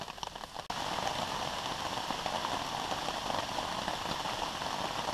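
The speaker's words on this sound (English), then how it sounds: "Rain." Steady rain falling outdoors during a birch wood knife carving session, a dense, even hiss of drops that starts after a brief softer moment and continues unbroken and fairly close.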